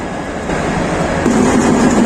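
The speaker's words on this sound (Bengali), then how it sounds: "নরসিংদী কমিউটারের লোকোমোটিভ" The diesel locomotive 2411 of the Narsingdi Commuter train idles at a station on the Dhaka to Bhairab route, a loud, steady mechanical rumble that swells slightly over two seconds.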